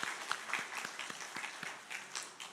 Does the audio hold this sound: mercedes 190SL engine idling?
no